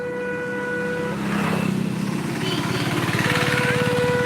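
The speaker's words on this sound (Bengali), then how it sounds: "সামনে অটো আসছে" An auto rickshaw engine drones nearer along a road during a stormy rain, its steady hum and buzzing tone swelling slightly as it closes in.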